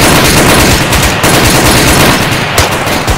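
Sustained, rapid automatic gunfire in the ArmA 3 military combat game, a loud continuous barrage of overlapping shots with no pauses across the whole stretch.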